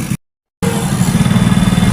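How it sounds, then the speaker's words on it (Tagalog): A motorcycle engine at an auto repair shop hums with a steady, loud low drone and a rapid pulsing beat, interrupted by a brief silent gap near the start. "Parang may humuhuni sa motor."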